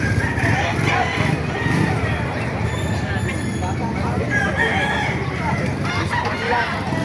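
Roosters crow amid a busy early-morning chicken market in Baliuag, Bulacan, with clucking fowl and a steady hubbub of people talking nearby.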